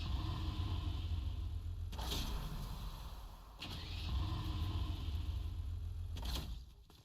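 A video game car's engine revs steadily in a continuous mid-pitched drone, with brief bursts of higher noise at a few moments and a fade at the end, and no talk over it.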